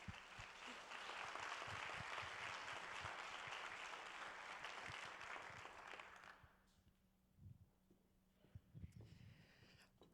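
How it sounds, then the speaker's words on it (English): Audience applause at a benefit event, a dense loud burst of clapping for about six seconds that then fades out, leaving scattered claps and faint room noise. "Let's give her a round of applause."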